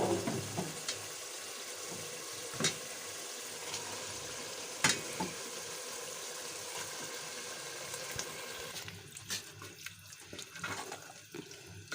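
Mustard greens for sarson ka saag tipped into soft frying masala and stirred, a steady wet sizzle and hiss with scattered clicks and scrapes of the spoon, close, quieter and broken toward the end, no talking.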